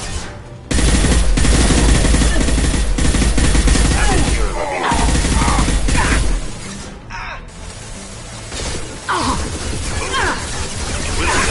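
Gunfire in the video game Mass Effect 2: loud, dense bursts of automatic weapon fire and impacts run through a firefight, with brief breaks and shattering crashes, under shouted combat voices.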